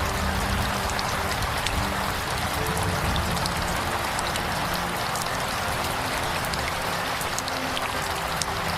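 Steady rain falls throughout, a dense hiss of drops pattering on surfaces with a low rumble beneath, no voices.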